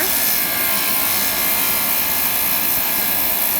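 A lapidary grinding wheel shapes a labradorite cabochon, giving a continuous loud, even whirring grind that fills the whole moment without pause.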